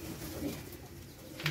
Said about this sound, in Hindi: कबूतर